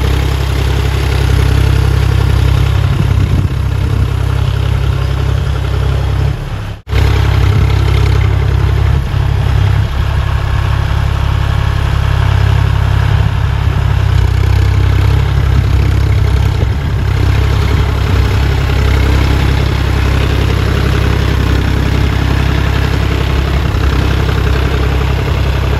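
A tractor engine idles on a farm, a loud, steady low rumble with constant vibration that runs unbroken except for one brief dip partway through.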